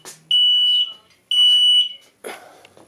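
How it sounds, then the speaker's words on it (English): Two long, loud, high-pitched electronic beeps from a smoke alarm set off by a burning 18650 lithium battery, followed by a short burst of noise. "Let me turn off the smoke detector."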